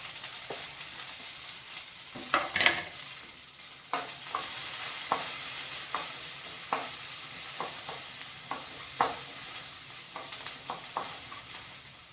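Red onion and crushed garlic fry in a pan, giving a steady sizzle that runs the whole way through. Scrapes and clicks from a stirring utensil break in at intervals, close by, with no talking.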